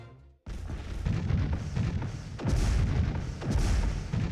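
Phaser arrays firing in the space strategy game Master of Orion, heavy booming energy blasts that rumble continuously, with fresh loud volleys swelling twice more after the opening burst.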